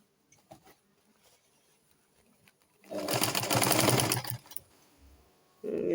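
Sewing machine stitching a flounce sleeve on a dress, a short loud burst of rapid mechanical stitching lasting about two seconds, preceded by quiet fabric handling and followed by another brief start.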